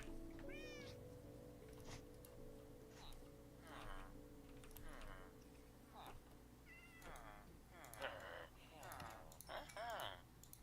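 Repeated meows from a cat in a Minecraft game, several short bending cries spread across the stretch alongside keyboard clicks and a soft background music drone.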